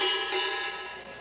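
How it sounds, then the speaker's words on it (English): Original Austin Healey chassis metal struck once, giving a bright ringing clang that decays over about a second, close and without talking. "This is the sound of the original chassis."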